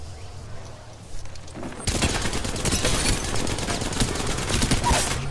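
A dense fusillade of gunfire erupts in an Apex Legends match after a quieter opening, with rapid overlapping shots continuing loudly to the end.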